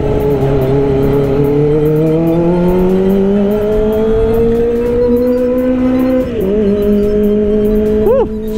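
A Kawasaki ZX25R motorcycle engine roars loudly and steadily up close, its pitch climbing gradually before a brief dip and a sharp rev burst near the end.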